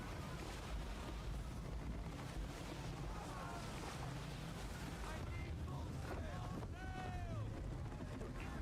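A sailing ship under full sail at sea, with steady wind and water rushing continuously, plus creaks and a few whistling tones over the wash; voices sound in the background.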